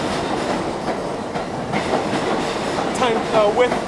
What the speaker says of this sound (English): The one train is passing right next to it, literally.